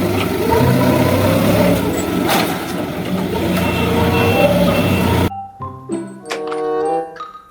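A toy forklift gives out a run of electronic reversing beeps over a dense, noisy background. The noise cuts off abruptly, and sparse tonal chirps follow.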